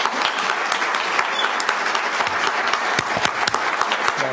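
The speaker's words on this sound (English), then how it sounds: "But let's give him an applause here." An audience at a history presentation applauds, a steady close burst of clapping from many hands that carries through the whole stretch without talk.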